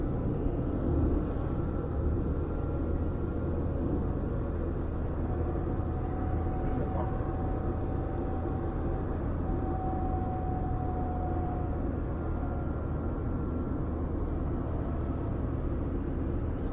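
A car drives slowly along a smooth, newly paved road in the Carpathians near Kolomyia, with a steady low rumble of engine and tyres heard from inside throughout, with no break in the noise.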